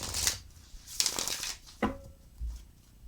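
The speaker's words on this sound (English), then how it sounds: "2 more shuffles." Tarot cards are shuffled close by in several quick, soft riffling bursts separated by short pauses, with no talking.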